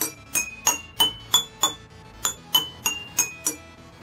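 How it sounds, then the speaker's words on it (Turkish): Small glass objects are struck one after another, giving about a dozen bright, ringing clinks at a brisk, uneven pace, each a different pitch and close to the ear, with no talking. "Gördüğünüz gibi buna vurduğumda kalın biraz şey bir ses çıkıyor."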